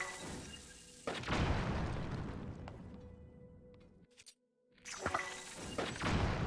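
Bombs explode in a video game, with booming blasts and whooshing debris that swell and fade, a brief dropout, then another loud burst near the end.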